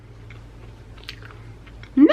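Crispy low-carb snack chip bitten once near the end, a loud sharp crunch after a quiet stretch of faint mouth sounds and room tone.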